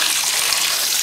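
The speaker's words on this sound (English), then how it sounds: "you keep washing until the water runs clear and no more dye comes out of the yarn" Steady broadband gush of running tap water rinsing hand-dyed yarn, colored with food coloring, in a sink; continuous and fairly loud, with no talk.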